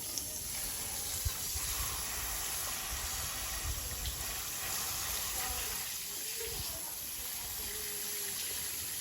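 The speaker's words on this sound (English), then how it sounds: "So now I'm going to water it." Water pours steadily and softly for several seconds onto a potted parlour palm, a faint continuous trickling and splashing close by.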